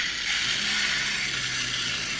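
A small propeller mechanism whirs steadily with a fine, buzzing rattle, a constant close hum that never changes pace.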